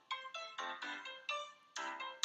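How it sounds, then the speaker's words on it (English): A phone alarm goes off in a romance story video game, a bright electronic ringtone melody of repeating tonal notes, clear and close, playing alone for a couple of seconds. "an alarm on your phone goes off."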